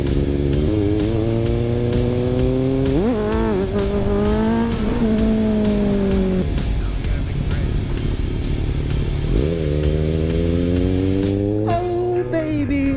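Motorcycles ride along Laguna Beach with the engine droning loud and steady throughout, its pitch climbing and falling with gear changes and revs, close up with a continuous rushing wind.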